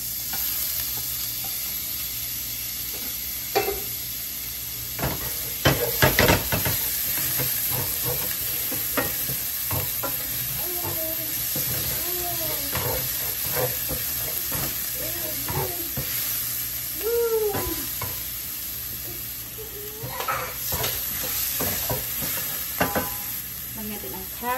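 Garlic and onion stir-frying in hot oil in a pan for stir-fry chicken, a continuous close sizzle broken by scraping stirs and clattering utensil strikes, with brief voice sounds in between.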